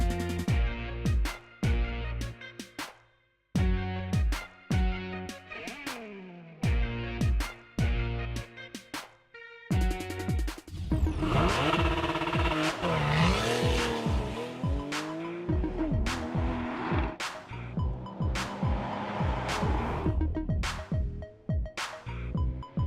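Porsche 911 GTS in Sport mode with its exhaust note sharpened, the engine purring and rising and falling in pitch through revs, loud and continuous, with brief gaps early on before a sustained stretch of driving.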